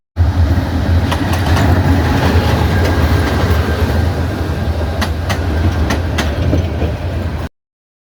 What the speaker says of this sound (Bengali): অলরেডি ট্রেন আসতেছে